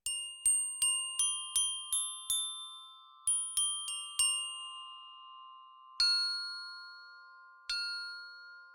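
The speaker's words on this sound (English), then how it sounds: "we can take a listen to just the chimes" Soft metallic chimes from the Fracture Sounds Zen: Meditations sample library struck one after another in a slow, steady sequence, each ringing out and fading, then two final isolated strikes with long decays.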